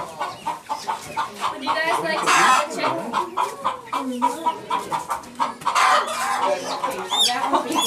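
Young chickens three to six weeks old cluck and peep on a farm in Davis, a steady flurry of bird calls running under people talking close by.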